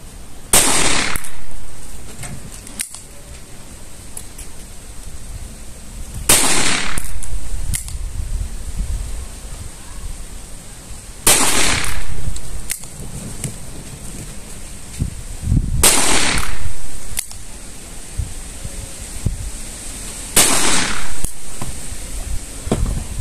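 Five loud, evenly spaced gunshots fire CBC SCV 158-grain reloaded rounds at a target 25 metres away on a shooting range, each a sharp crack several seconds apart with quiet pauses between.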